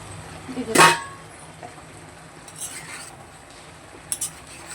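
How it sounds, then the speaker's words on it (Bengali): A spoon stirs a vegetable curry of ridge gourd and banana stem in a pot: one loud scraping clatter near the start, then faint scrapes and light clinks over a quiet background. "ঢাকাটা সরিয়ে এবার তরকারিটা একটু নেড়ে দেবো"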